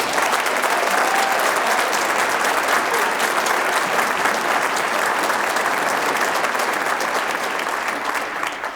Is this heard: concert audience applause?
yes